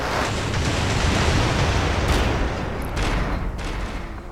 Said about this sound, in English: Explosions fix everything, including fallen bridges.